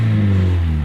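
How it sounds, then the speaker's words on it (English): A 1991 Mazda Miata fitted with a Borla S-type exhaust drones loudly and close, a deep steady engine note held under a brief rev for under a second. "my 1991 Mazda Miata has the Borla S-type exhaust"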